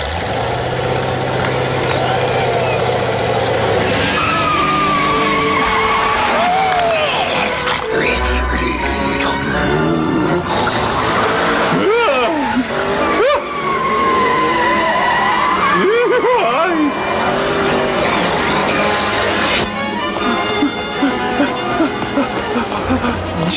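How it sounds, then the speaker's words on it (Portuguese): Race car engines in a video game rev and idle with skidding tires, a loud, busy mix of rising and falling engine tones and screeching slides that fills the stretch, with voices speaking at points over it. "Nenes pilotos, liguem seus motores."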